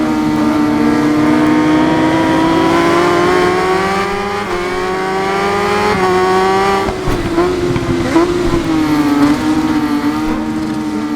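Kawasaki ZX10R superbike in the RIDE 5 racing game, engine revving high and steady with wheel spin, a loud continuous buzzing whine that wavers in pitch as the throttle shifts, close and alone.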